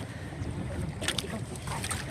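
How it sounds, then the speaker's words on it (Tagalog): Strong wind buffets the microphone at sea during shallow-water crab fishing, a steady roaring rumble with gusty swells and faint water and boat noise beneath it. "Hangin. Sobrang hangin."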